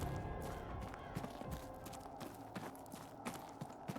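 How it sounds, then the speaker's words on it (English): Faint, irregular clip-clopping of horse hooves in a video game over a low ambient backdrop, the steps soft and scattered rather than a steady gait. "It's a good thing Dara is completely distracted by the horses."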